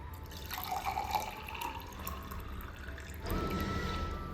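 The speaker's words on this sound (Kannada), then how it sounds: "ಈಗ ಗ್ಲಾಸ್ಗೆ ನೀರು ಹಾಕ್ತಿದ್ದೀನಿ" Water poured into a glass from close by, a steady trickling stream that fills and changes slightly near the end, with no talking.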